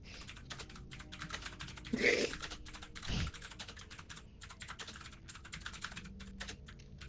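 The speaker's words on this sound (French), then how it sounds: "laisse ton clavier tranquille, calme-toi. Et j'ai un clavier mécanique." Mechanical computer keyboard typing, a steady run of quick, light key clicks with a couple of louder thumps in the middle, fairly close and moderately quiet.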